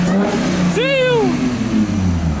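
Car engine revving at a night-time car meet, a loud close rumble with a short sweeping whine rising and falling, and a voice shouting over it.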